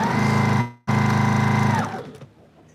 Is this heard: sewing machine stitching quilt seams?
yes